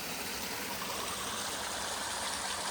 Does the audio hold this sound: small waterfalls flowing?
yes